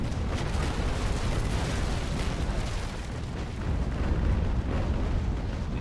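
Cannon broadsides traded between sailing warships in the naval combat game Naval Action, a dense continuous roar of overlapping booms and rumbling blasts at steady loudness for the whole stretch, with no talk.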